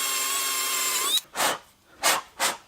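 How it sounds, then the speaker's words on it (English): A power drill fitted with a large bit runs with a steady whine, then stops. Three rough grinding bursts follow as it bores a large hole into rubber. "It's a bloody big drill bit. I'm going to put a big bloody hole in it."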